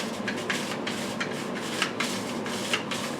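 A hand herb grinder twists through herbs with a dry, rhythmic rasping scrape, repeated strokes about every half second, close and fairly loud with no talking.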